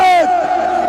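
A crowd at a religious gathering chants the Nara-e-Takbeer slogan in unison, many voices together in one loud, sustained, close call for just under a second.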